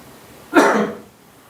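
A preacher wearing a face mask gives a single short cough, near and fairly loud, with no speech around it.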